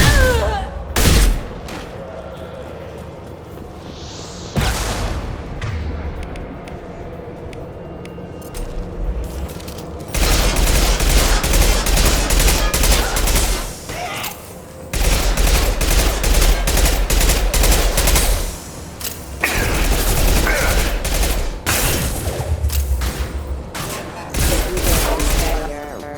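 Mass Effect 2 Legendary Edition combat gunfire on PS5, repeated loud bursts and volleys with booms, broken by short lulls, with character voices shouting in between.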